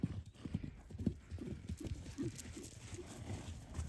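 Several newly arrived horses walking on hard ground, hooves clip-clopping in an irregular, overlapping rhythm, fairly faint and nearby with no talking.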